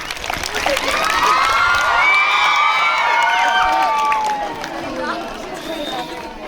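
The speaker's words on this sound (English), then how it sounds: "Once a huge round of applause." Students in a school crowd cheer and shout loudly with high excited voices and some clapping, a dense sustained roar that swells and then tapers slightly.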